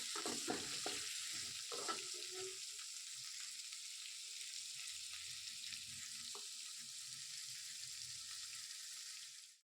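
Tomato, onion and garlic sautéing in a pan, with a steady, loud sizzle that runs unbroken and is stirred now and then with soft scraping knocks, until it cuts off abruptly at the end.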